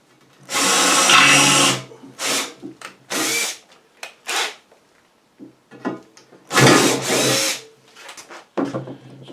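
Bigger bit in a power drill biting into the tough steel bed of a dolly cart for a firewood carrier, loud grinding bursts in stop-start runs, close up.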